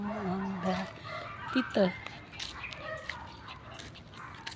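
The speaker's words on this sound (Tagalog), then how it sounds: "maraming galang aso dun sa may harapan namin" Stray dogs bark from across the area in front of a home, a few short barks rising briefly over light outdoor ambience while a person talks nearby.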